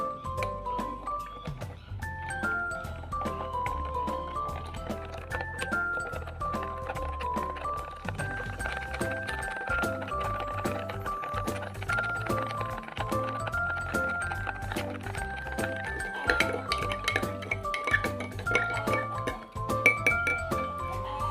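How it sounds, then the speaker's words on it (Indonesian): Salt is stirred into water in a glass, with a spoon repeatedly clinking and ringing against the sides in a quick, irregular rhythm, close and fairly quiet. "kita aduk sampai garam larut terhadap air."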